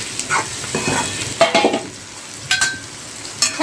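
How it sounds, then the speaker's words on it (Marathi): Raw mango pieces are stirred in a hot pan, sizzling steadily while a spatula scrapes in several distinct sweeps, close and fairly loud, with no voices. "छान असे हलवून घेऊया"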